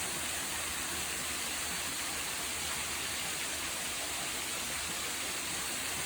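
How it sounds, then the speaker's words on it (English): A waterfall in a limestone state park, swollen after heavy rain, gives a loud, unbroken rushing hiss of falling water that fills the whole stretch without pause. "Take a look again at the waterfall. Really moving. Quite a bit of water."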